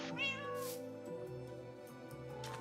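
Several cats from Minecraft Bedrock Edition meow in close succession, bright mewing calls layered over a steady soft game background hum.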